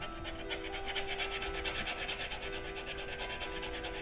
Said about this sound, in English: we're just burnishing down all the tops, just like a sandpaper textured